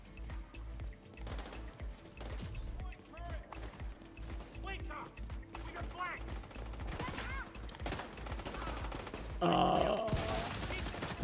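Rapid bursts of gunfire from The Division 2 video game crackle throughout, mixed with game sounds and effects, growing louder and denser near the end.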